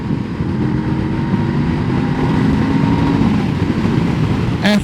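A 2023 Honda CL500 Scrambler motorcycle accelerates to overtake on a 60-limit road, its engine droning steadily and loud under rushing wind noise, with a brief clatter at the end.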